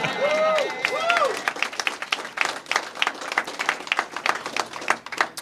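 A live podcast audience claps, scattered at first and then swelling into steady applause from a small crowd, preceded by a couple of brief whooping voices.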